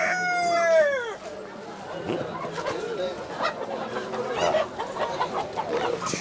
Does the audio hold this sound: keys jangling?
no